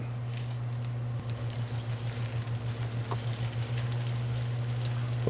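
Homemade smoked bacon sizzling and crackling in a cast iron pan as the strips are flipped, a steady close frying hiss over a low constant hum.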